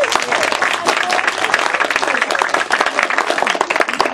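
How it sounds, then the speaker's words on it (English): A town hall crowd at a fire station naming ceremony applauds Mayor Lewis with lively, close clapping, sharp individual claps standing out from the mass and a few voices mixed in. "Let's give him one more round of applause"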